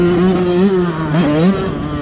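Motocross motorcycles on a muddy track rev loudly and close, their engine tones rising and falling across a couple of throttle swells, with no voices.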